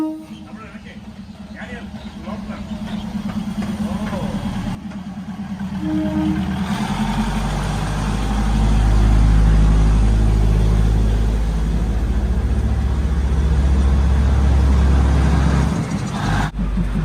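A train rolls slowly through a crowded market south of Bangkok, a deep rumbling engine drone swelling and holding steady as it nears, with voices talking over the low, heavy rumble.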